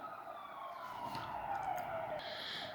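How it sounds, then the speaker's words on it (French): Police siren wailing outside during lockdown, a faint, distant, rising-and-falling tone heard from indoors over low room noise. "تنسمعوا la sirène des policiers"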